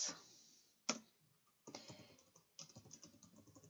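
Code being typed on a computer keyboard, heard as quiet, uneven bursts of key clicks broken by short pauses, with no voice.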